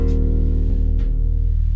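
Arranger keyboard accompaniment with only the drum part playing, steady close beat under sustained low tones from the setup, no voices.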